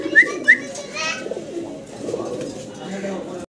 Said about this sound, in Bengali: আপনারা দেখতেছেন 4টা গিরিবাজ কবুতর আছে, একদম 2 জোড়া পিওর গিরিবাজ কবুতর